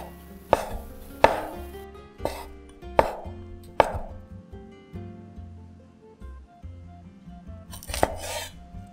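A kitchen knife slices mushrooms on a cutting board, with six or seven crisp, close knocks of the blade against the board at an uneven, unhurried pace, no voices over them.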